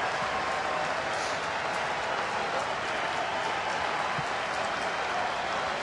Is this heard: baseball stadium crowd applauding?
yes